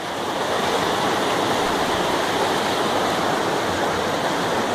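A river flows in a steady, even rush of water, moderately loud and continuous, with no voices over it.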